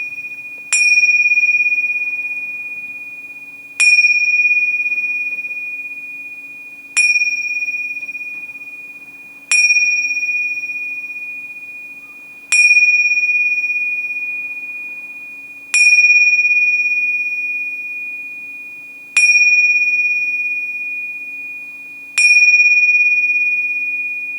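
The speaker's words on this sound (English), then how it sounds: "I have some Tibetan bells that are ringing." Tibetan bells struck eight times at a slow, even pace, each bright metallic ring sustaining and fading before the next strike, clear and alone over a faint steady hum.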